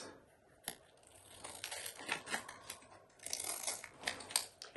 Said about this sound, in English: what I'm going to do with my scissors, I'm going to trim